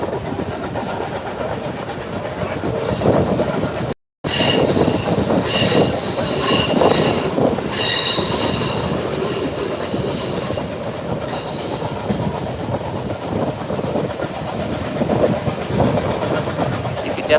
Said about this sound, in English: Definitely hear 2102 working hard in the distance there.